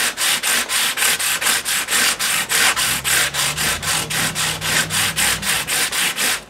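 Sandpaper of 400 grit rubs back and forth over the wooden body of a Jazz bass, smoothing out tooling marks in fast, steady strokes that repeat about three times a second, close and loud, with no one speaking.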